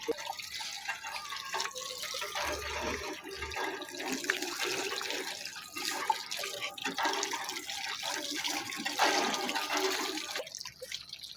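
Water gushes steadily from a government school's hand pump, a faint continuous splashing stream with slight surges, running alone without talk.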